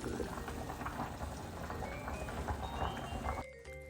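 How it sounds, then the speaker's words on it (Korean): Water with salt and olive oil bubbles at a rolling boil in a pot of pasta, a steady close crackling hiss that stops abruptly near the end. "냄비에 물을 받아 소금이랑 올리브오일 넣고 9분간 면을 삶아주세요"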